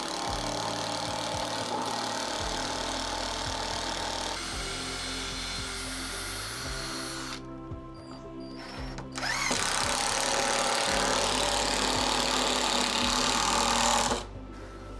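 A power drill drives screws into wood where it meets a shipping container during a farm renovation, the motor whirring loudly in sustained bursts with pitch shifts as it bites and stops, briefly pausing before another long run.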